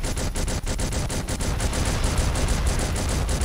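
Machine gun fire from an airstrike video game, a loud, unbroken stream of rapid rattling shots that keeps going for the whole stretch with no pauses.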